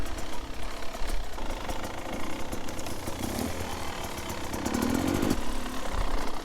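Beta Xtrainer 250 dirt bike engine on an uphill trail section, a continuous close, rough two-stroke drone that swells slightly toward the end, with no speech.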